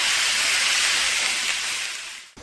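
Good quality minced beef searing in a hot pan, a loud, continuous broadband sizzle held steady close up, then cutting off abruptly near the end.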